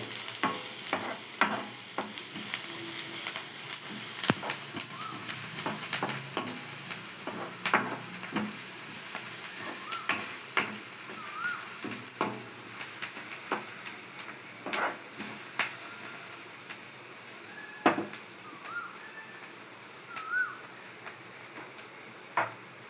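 Chicken fries in a pan with turmeric and is stirred, a soft steady sizzle broken by frequent sharp scrapes and taps of the spoon against the pan.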